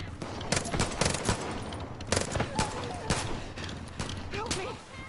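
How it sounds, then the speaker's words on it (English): Rapid bursts of video game gunfire crackle in repeated volleys, with a voice talking between and under the shots. "That's gunfire!"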